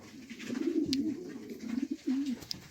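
A hunting pigeon (palomo de caza) coos in a steady run of low, throaty warbling notes, close and fairly loud, with a brief pause before the cooing resumes.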